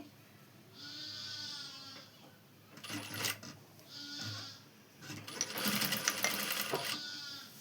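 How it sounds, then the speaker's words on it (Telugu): Goats bleat in a village setting, two wavering calls at moderate distance, alternating with bursts of a clattering sewing machine used to stitch piping on a lined blouse. "ఇక్కడ మేకలు అన్నీ అరుస్తున్నాయి"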